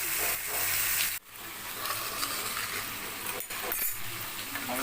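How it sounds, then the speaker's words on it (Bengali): Chicken with whole spices and Kashmiri chilli powder sizzles softly in a pan, a low steady fry broken by a few sharp clinks and scrapes of a utensil. "পুরো গোটা মশলাতেই রান্না করছি চিকেনটা"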